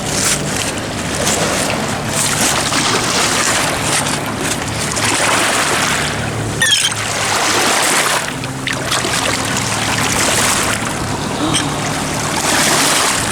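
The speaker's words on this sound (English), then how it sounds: "let me just give it a rinse" Mudlarking find rinsed in the River Thames, with continuous loud splashing and sloshing of river water, a short break midway, and wind noise over it.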